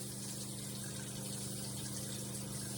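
Steady running water rinses facial cleanser off the skin, a constant close gushing hiss that carries on without a break and with no voices.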